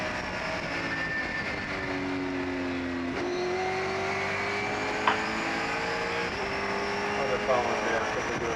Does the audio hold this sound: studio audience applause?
no